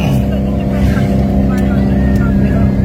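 A vehicle engine drones loudly and close, holding a steady low rumble while gears are shifted, with voices talking over it.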